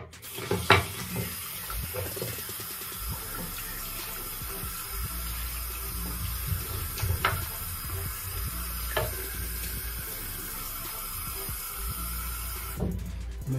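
A tap runs water onto a hairbrush to dampen it, a steady soft stream with occasional light splashes and clinks, fairly quiet throughout.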